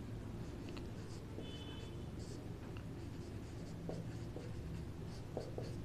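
Chalk or marker writing on a board during a maths lesson, soft intermittent scratching strokes under a low hum of room noise.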